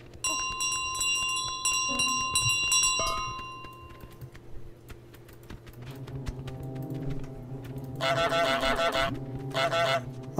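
A bell rung repeatedly by the goose in Untitled Goose Game, bright tinkling chimes in clusters at the start, then louder bursts of clanging near the end over a steady low game hum.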